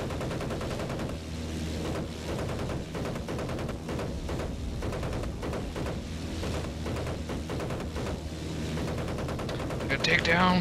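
Sustained machine gun fire in the video game Battlefield 1943, a dense rapid stream of shots running steadily throughout at close range, with a brief flare of brighter noise near the end.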